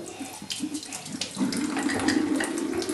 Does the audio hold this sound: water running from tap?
yes